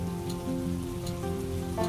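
Steady rain falls continuously over a village roadside dhaba in the morning, a soft, even patter mixed with faint background music.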